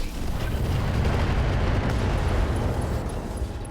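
Mech weapons alpha strike fired at an Atlas in RogueTech, a dense sustained roar of explosive fire and booms filling the whole moment, loud and continuous.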